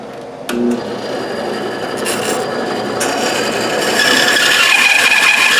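Bandsaw cutting through a wooden workpiece for a Native American craft project, a steady close rasping drone with a tool whine that grows louder and brighter toward the end, no talk.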